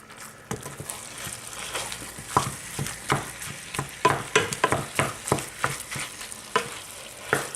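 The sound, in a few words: ground beef frying in butter and olive oil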